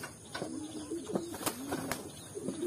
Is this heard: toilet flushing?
no